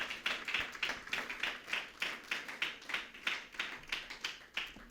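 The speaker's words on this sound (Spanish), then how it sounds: "¿Se atreve a darle un aplauso al Señor en este día?" A church congregation claps in a steady rhythmic beat for several seconds, fairly faint and somewhat distant, with no voices over it.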